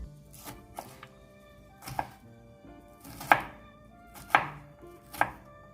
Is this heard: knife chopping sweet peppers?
yes